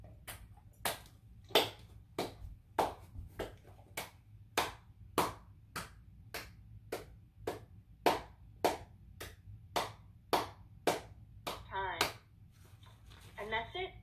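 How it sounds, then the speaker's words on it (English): Steady hand claps repeat about every half second during dog training, crisp and fairly close over a low background hum, with a brief softer sound near the end. "Sit for 10 seconds while you clap your hands."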